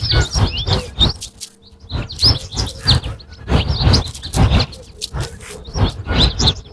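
A granular sound composition built from bird recordings in the Borderlands app, with layered chirps and tweets overlapping in dense, shifting bursts. A steady low rumble sits underneath, with brief quieter gaps between the clusters.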